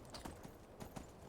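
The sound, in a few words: horse hooves clip-clopping in Skyrim video game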